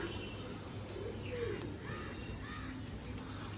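An active pigeon gives a soft, low coo in the middle of the clip, faint against steady background hum, with some brief higher chirps nearby.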